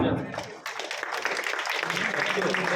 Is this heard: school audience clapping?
yes